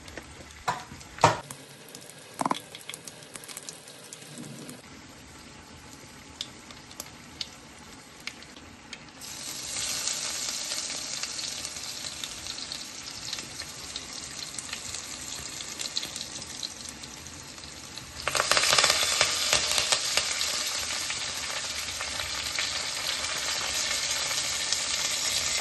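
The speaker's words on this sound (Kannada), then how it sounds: "ಇವಾಗ ದಾಲ್ಗೆ ಎಣ್ಣೆಯಲ್ಲಿ ಸಾಸಿವೆ, ಜೀರಿಗೆ, ಹಿಂಗು, 2 ಒಣಮೆಣಸು, ಬೆಳ್ಳುಳ್ಳಿ ಎಲ್ಲ ಹಾಕಿ ಫ್ರೈ ಮಾಡ್ಕೋಬೇಕು." Mustard seeds, cumin, asafoetida, two dried chillies and garlic fry in hot oil for a dal tempering: sharp pops and clicks at first, then a rising continuous sizzle that jumps louder near the end.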